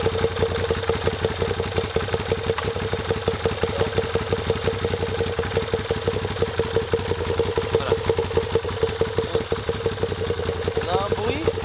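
A 2017 Moto Guzzi V7 II Racer Limited Edition motorcycle idles with a steady, evenly pulsing V-twin beat close by; a voice is faintly present beneath the engine.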